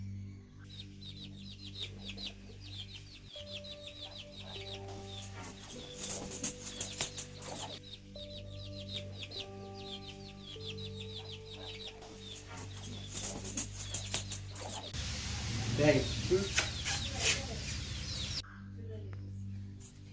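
Hens cluck and chirp in scattered bursts in village chicken coops over a steady low hum, with a louder flurry of scratching and rustling near the end.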